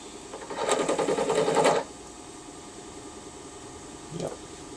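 A machine tool runs briefly as it chamfers the underside of a hole in a new vise clamp, giving a steady buzzing whir for about a second, then stopping, with a faint short bump near the end.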